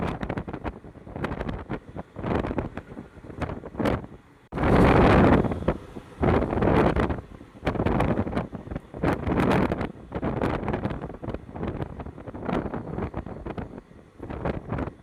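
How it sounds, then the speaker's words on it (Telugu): Violent storm winds near Delhi airport, heard from inside a car, buffet the microphone in loud, roaring gusts that surge and drop repeatedly, with a very strong blast around the middle and no talking. "ఎంతటి భయంకరమైన గాలు ఉన్నాయి అక్కడ"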